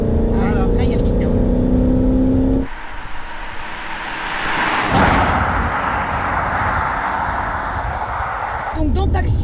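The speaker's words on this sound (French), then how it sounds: "là, il y a le kickdown." A Mercedes W124 500E kicks down and accelerates hard, its engine swelling into a loud, broad roar that builds and holds for several seconds, with people talking over it inside the car.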